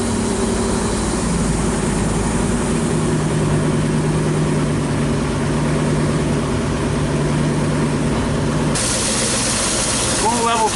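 A Volvo Penta marine engine running close to idle, a loud steady low rumble throughout with a shift in tone near the end, and a person talking over it.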